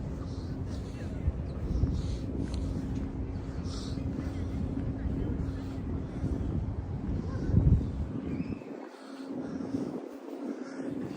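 Gusty wind blowing outdoors on a street in Queens, New York, a steady broadband rush with microphone buffeting and low rumbles, briefly dropping out near the end, with faint background voices.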